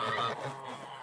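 A goose honks repeatedly on a cold winter farm during evening chores, with loud, close calls filling the short moment and no talk over them.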